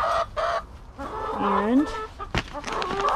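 Backyard chickens in their coop, several hens clucking and squawking close by in irregular bursts, with a rising call in the middle, and a person says a brief word.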